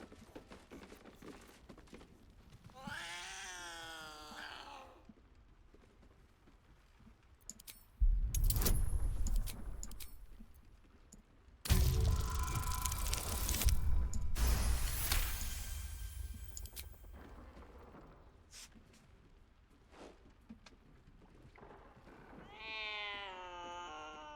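A cat in Baldur's Gate 3 meows plaintively twice, once early and once at the end, in a quiet scene. Between the meows come loud clattering and rustling bursts, like jangling keys and footsteps.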